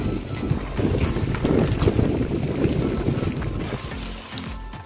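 Strong wind roars across the JLS coastal road at Baros in Kulon Progo, a steady, loud rumbling buffet against the microphone that runs the whole time with no talk.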